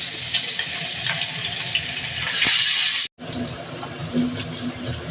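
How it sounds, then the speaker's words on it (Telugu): Pieces of fish shallow-fried in a pan of hot oil give a steady close sizzle and crackle that runs throughout, broken by a brief near-silent gap before the frying hiss resumes at the same level. "మామూలుగా నూనె పోసి నూనె వేడైన తర్వాత ఒక్కొక్క పీస్ వేయాలండి. ఇలా చేప ముక్కలు వేసుకుంటున్నాను."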